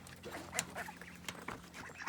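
Ducks on a small self-sufficient farm quack in short, scattered bursts, close by and fairly faint over a low steady hum.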